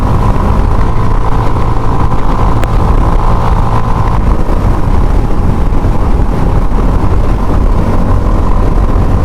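Continuous engine and road noise from a motorcycle cruising on an Indian highway between Haridwar and Gwalior, steady and loud throughout with wind rush and no talk.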